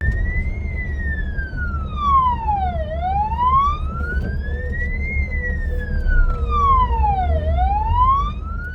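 An emergency vehicle siren wails in long, slow rising and falling sweeps over a low engine rumble, loud and close.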